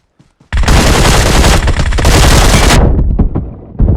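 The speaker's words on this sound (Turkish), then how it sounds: "Abi Barış abi de sıkıyor uzaktan ya." Sustained automatic gunfire from the video game PUBG, a loud dense burst of rapid shots lasting over two seconds, then tailing off into a few scattered cracks.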